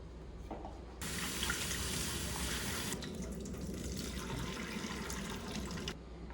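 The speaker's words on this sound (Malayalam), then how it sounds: "നമുക്ക് ആദ്യം കറുത്ത മുന്തിരി കഴുകാം" Black grapes rinsed in a holed colander under a running kitchen tap: a steady, close rush of water pours continuously for about five seconds, starting abruptly and cutting off near the end, with no talk.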